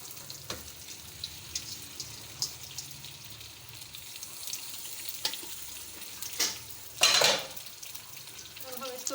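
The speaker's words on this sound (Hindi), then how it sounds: "अब हम इसमें डालेंगे मैक्रोनी" Boiled macaroni tipped into a pan of cooked vegetables on the stove, with a faint steady sizzle, light scraping taps and a brief louder clatter and slide of pasta near the end.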